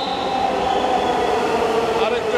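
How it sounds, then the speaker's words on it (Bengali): A metro train pulls out of Farmgate station in Dhaka, its steady rumbling roar and faint tonal whine continuous and close, filling the platform at peak hour. "ফার্ম গেটের ট্রেন চলে যাচ্ছে"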